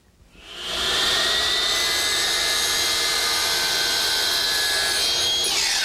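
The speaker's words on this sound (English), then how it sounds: "Now to the miter box." Trim pieces being cut in a miter box, a close, loud, continuous rasping saw sound that rises within the first second and then holds steady, alone without speech.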